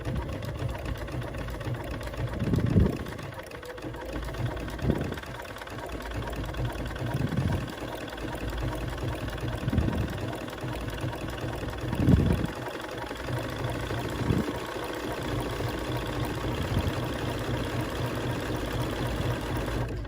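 A Bernina B570 sewing machine with an eyelet attachment runs in short, faint bursts of low mechanical whirring and stitching, with soft clicks between runs over a quiet room hum.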